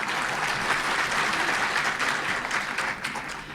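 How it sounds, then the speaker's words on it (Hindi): An audience at a speech breaks into sustained, loud applause, a dense even wash of clapping that fills the whole stretch without any talk. "तो ताली तो बजाने दीजिए।"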